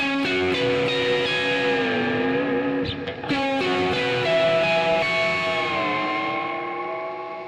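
A heavily distorted electric guitar on the neck pickup plays sustained, bending lead notes with a thick effected tone, loud and up close, with no talking.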